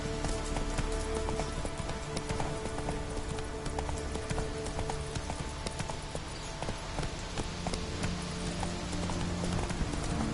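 Horse hooves clip-clop in a steady trotting rhythm in The Witcher 3, close and prominent over a soft ambient game backdrop, with no talking.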